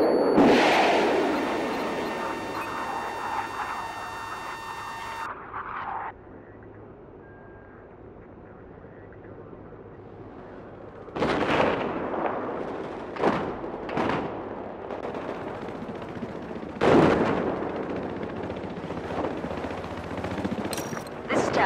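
Cruise missile strikes in Battlefield 4 land as a series of loud, sharp explosive blasts with rumbling tails, arriving in clusters after an opening stretch of mechanical tones and low hum.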